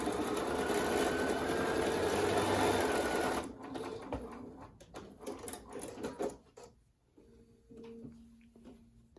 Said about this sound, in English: I'll just sew straight.